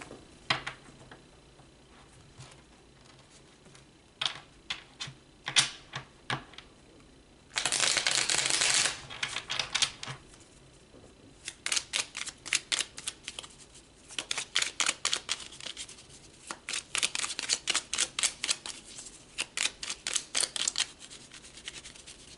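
Tarot cards are shuffled by hand in close, crisp riffles and flutters that come in repeated bursts, with one long dense shuffle and lighter card taps between.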